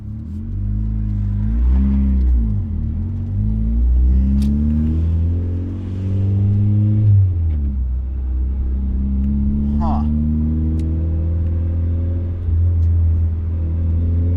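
Turbocharged Mazda Miata engine revving and accelerating on a street, a loud close rumble rising in pitch through the gears, with a brief dip and renewed pull midway; people talk over it.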